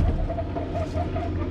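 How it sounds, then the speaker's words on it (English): Forestry mulcher clearing a driveway for a new homesite runs close and loud with a heavy low droning hum and a faint pulsing, wavering tone riding over it, an odd off-rhythm sound in the machine. "Mulcher's making an odd noise."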